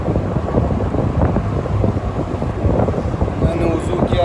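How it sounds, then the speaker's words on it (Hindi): Strong hot wind blowing during road travel from Sibi to Jacobabad, a loud continuous rushing roar over the microphone, with faint talk partly buried underneath. "यहाँ बहुत सख्त हवा चल रही है"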